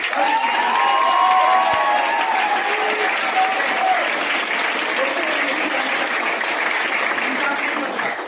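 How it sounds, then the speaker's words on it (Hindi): Loud, sustained applause from a large audience at a company success-story event, steady dense clapping throughout with faint cheering and voices in the mix. "ताली बजाते हुए आप लोग, हम सब के यूनिवर्सल अपलाइन है, अगर बजाना है तो जोरदार बजाइए।"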